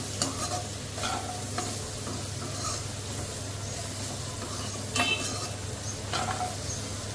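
Paneer and red, green and yellow capsicum being mixed in a hot pan, a steady sizzle under a low hum with a few sharper scrapes and clinks of the spoon, nobody speaking.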